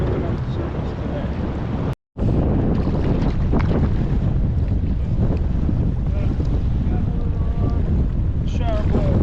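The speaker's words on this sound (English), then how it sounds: "It's an advantage to have the wind. You know, really whipping up the surface today." Strong wind buffets the microphone beside a river with low, clear fall water, a steady loud roar and rush continuing for several seconds and cut by one brief dropout.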